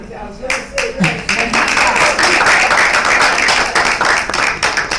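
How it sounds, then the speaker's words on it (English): Applause from a conference audience for a panelist at a session on African film co-production, clapping swelling after a brief voice at the start and continuing as a dense, fairly loud wash to the end. "A round of applause for her."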